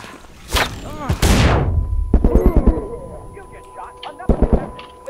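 Grenade blast and gunfire in the survival shooter The Culling, with a big rumbling explosion followed by a second boom and scattered sharp shots, while players talk over the action.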